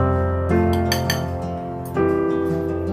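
Metal spoon clinking against a bowl while salt is added to yogurt for a vegetarian Basanti pulao, a few bright close taps at about half a second and again near two seconds over steady background hum.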